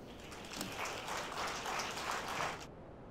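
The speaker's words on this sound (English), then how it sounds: "I think you all clapped very well" Audience applause after a presentation at a logistics conference, a steady wash of clapping from a large crowd that carries on for a few seconds and then stops abruptly.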